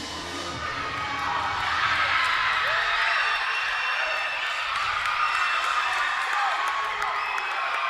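Crowd and gymnasts chanting and cheering at the MPSF Gymnastics Championships 2025 after a floor routine, a steady, dense roar of many voices filling a large arena, sustained throughout.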